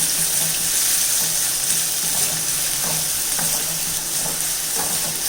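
Sliced onion and garlic sautéing in a pan for a groundnut chutney, a constant close sizzle with soft scraping stirs scattered through it, no talking.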